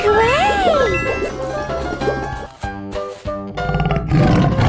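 A tiger roars in a 3D animal sliding video game, a loud growling roar up front, followed by chiming game effects and tonal music, with a voice speaking briefly.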